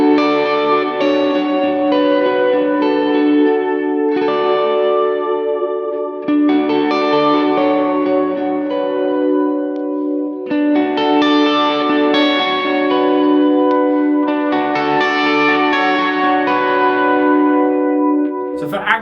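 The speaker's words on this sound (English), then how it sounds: "So let's hear the clean tones on this beautiful red Horizon." A red ESP Horizon electric guitar with active pickups plays clean tones, with ringing chords and arpeggios that carry a shimmering chorus-like effect and echo. It rings loud and alone for the whole passage, with no talking.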